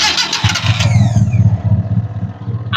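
A 2002 Mitsubishi Colt T120SS engine cranks briefly, catches and settles into a loud, close, steady mid-pitched idle with a throbbing pulse.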